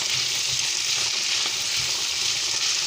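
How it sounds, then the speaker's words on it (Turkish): Meat with onion and red and green peppers sizzles loudly in a pan, a bright continuous frying hiss with soft scraping stirs pulsing underneath, close up and without speech. "Evet ekledikten sonra bir güzel karıştırıyoruz."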